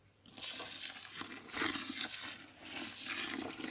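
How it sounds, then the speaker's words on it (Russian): Water poured by eye over a poultry feed of red proso millet and cracked corn in a bowl, a soft rushing splash in a few surges, quiet and close with no voices. "Далее заготовку я развожу немного водой."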